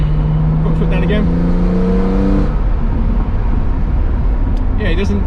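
A BMW E46 M3 with the SMG gearbox pulls hard under full throttle, its engine note rising and then cutting at a gear change, heard from inside the car under ongoing road noise and some talk.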